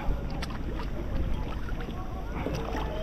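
Kayak paddling across Big Lagoon in El Nido, Palawan: steady water swishes and light splashes over a constant low rumble of wind on the microphone, with faint voices in the background.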